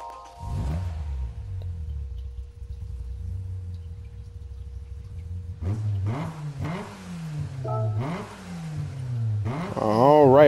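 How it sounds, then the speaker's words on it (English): In Gran Turismo 7, an Amuse S2000 GT1 Turbo engine starts up and settles into a low idle, then gives a series of sharp rising revs that climb louder toward the end. "We'll listen to the startup sound"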